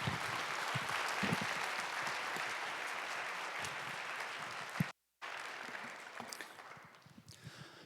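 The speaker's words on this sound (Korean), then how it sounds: "선교사님 환영하는 마음으로 박수로 환영하도록 하겠습니다." A young adults' church congregation applauds a visiting missionary with a steady, even wash of clapping that breaks off briefly, then resumes and thins out near the end.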